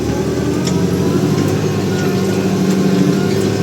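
A tractor engine drones steadily and loudly under load while disking a sunflower field with a disc harrow, a constant low rumble with no voices over it.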